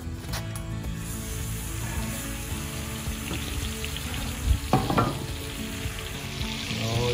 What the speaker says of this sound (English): I've got about 2 tablespoons of bacon grease in the cast iron cook it all, letting it heat up. So we're gonna fry this up a little bit.